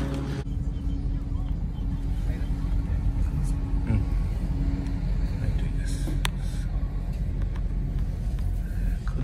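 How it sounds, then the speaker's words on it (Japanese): Low, steady engine rumble of cars boarding a ferry bound for Kanaya in southern Boso, with a continuous drone throughout and a voice talking over it. "車の方はですね、このように、フェリーに乗り込むと"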